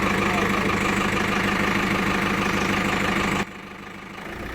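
A Daldiesel 18/22 main engine idles in the engine room of the ship m/s Orbiit, giving a loud, dense, steady mechanical roar and rumble that drops suddenly to a lower, quieter drone near the end.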